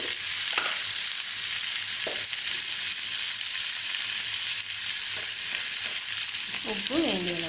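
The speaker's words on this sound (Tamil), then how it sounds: "ஒரு வதக்கிட்டு தக்காளியை அப்படியே போட்டுருங்க." Tomatoes fry in a pan for a simple tomato gravy, a loud continuous sizzle with occasional scraping stirs and a few short clinks near the end.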